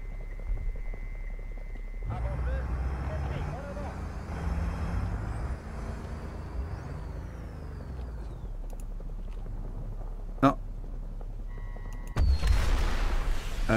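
The anti-aircraft weapon on a French VAB SANTAL armored vehicle in War Thunder fires in short, sharp bursts: one crisp report near the end, then a dense, loud volley, over a steady low vehicle rumble.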